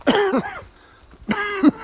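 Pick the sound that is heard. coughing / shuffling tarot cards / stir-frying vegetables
coughing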